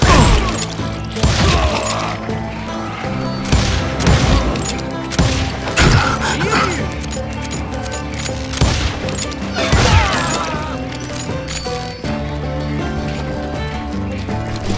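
Call of Juarez Gunslinger shootout with dense, loud gunfire: rapid shots and impacts crowd together over a constant background of game music and effects, with no voices.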